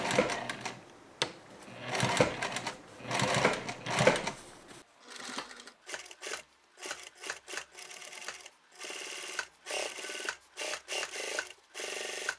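A sewing machine stitches trousers with a close, rattling mechanical hum, first in a continuous run and then in short, choppy bursts of a few stitches each.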